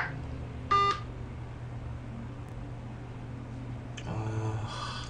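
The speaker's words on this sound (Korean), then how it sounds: "한번 전화해 볼게요." Telephone call tones on a phone being dialed during a call attempt: a short tonal beep burst near the start, then a longer run of dialing tones toward the end over a steady low hum.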